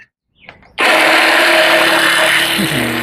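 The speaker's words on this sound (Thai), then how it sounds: "ลองดูว่าใบหยาบหยาบ จะเลื่อยดีไหมนะครับ" After a brief quiet moment, a coarse-bladed Masaru pull saw bursts into loud, close cutting through hardwood, a steady coarse grinding whine that continues without pause.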